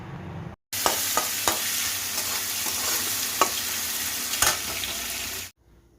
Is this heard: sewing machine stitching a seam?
no